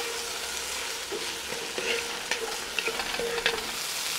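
Grated garlic fries with browned onions in a pan, producing a continuous close sizzle and hiss, with occasional spoon scrapes and knocks against the pan.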